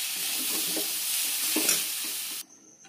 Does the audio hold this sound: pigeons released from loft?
no